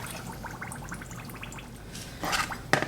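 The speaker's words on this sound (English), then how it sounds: "To that I'm going to add 2 cups of water." Water is poured onto sugar in a two-cup measuring cup while making a strawberry Jell-O pie filling: a close, gurgling trickle with light drips, ending in a couple of sharper splashes.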